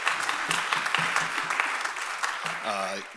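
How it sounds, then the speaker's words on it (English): A quick round of applause from a congregation at a church assembly for the tech team, clapping under a speaking voice that continues over it, fairly close and steady. "Quick round of applause, by the way, for our tech team today"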